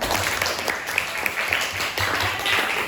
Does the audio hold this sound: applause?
yes